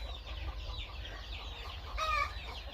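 A rooster perched in a cherry tree in a village lets out a short, clucking call over steady low background rumble, with a brief louder burst near the end.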